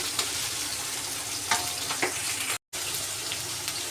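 Spices such as cumin and bay leaf frying with potatoes in hot oil in a wok for fish curry: a close, steady sizzle with a few sharp crackles and stirring scrapes.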